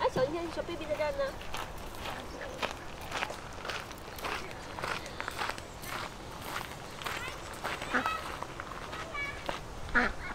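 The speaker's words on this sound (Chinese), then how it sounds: "那公园里面有很多野生的鸭子啊、鹅呀、之类的" Wild ducks and geese quack in a park in New Zealand, scattered faint calls mixed with footsteps and quiet voices talking.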